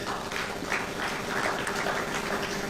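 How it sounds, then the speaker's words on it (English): Steady applause from an event audience for a UNHCR guest, a dense, even wash of many hands clapping at a moderate distance with no voices standing out. "Let's give her a round of applause."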